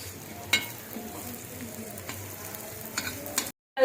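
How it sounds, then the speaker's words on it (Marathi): Elephant foot yam slices shallow-fry until crisp, giving a steady close sizzle with a few sharp spatter pops and utensil clicks, then a sudden cut to silence near the end. "छानपैकी खरपूस तळून घेऊया काढून घेऊया दुसऱ्या साईडने आणि तिथूनही व्यवस्थित तळून घेऊया"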